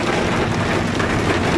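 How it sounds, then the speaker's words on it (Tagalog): Heavy rain pours steadily, a dense, loud, unbroken hiss of downpour filling the whole moment with no voices. "Malakas ang ulan, malakas ang ulan."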